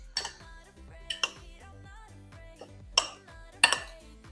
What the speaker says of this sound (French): je vais remuer un petit peu le tout